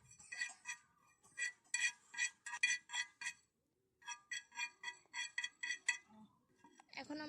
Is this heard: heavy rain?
no